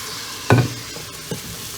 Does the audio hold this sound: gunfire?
no